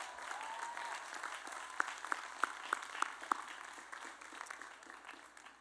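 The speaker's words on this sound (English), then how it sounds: "Let's give them a big round of applause." Audience applause at a high school graduation ceremony, sustained clapping from a crowd with a few sharp individual claps standing out, fading gradually.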